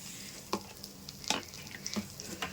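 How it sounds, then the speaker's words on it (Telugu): Chili powder and garam masala fry in hot oil for a restaurant-style red curry, giving a low steady sizzle broken by a few sharp scrapes of a stirring spoon, close and fairly quiet with no talking. "ఈ కారం గరం మసాలా మాడకుండా వేయించుకోవాలి"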